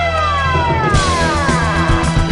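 A police car siren wails with sweeping, falling tones over a low rumbling background, loud and continuous throughout.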